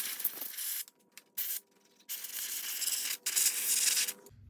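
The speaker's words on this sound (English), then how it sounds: "With my compressed air and my brush, I'm going to do a little bit of cleaning on the front panel" Compressed air and a brush clean the front panel of a Project/One Mark IIIB solid-state stereo receiver, with bursts of hissing spray and rubbing broken by short pauses, ending in a brief thump.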